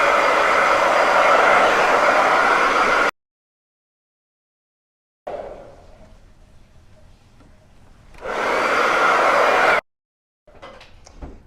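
A hair dryer blows on a hexagon Christmas chalk couture board. It gives a loud, steady, close whoosh that cuts off abruptly, returns softer and thinner, then rises to full blast and stops again.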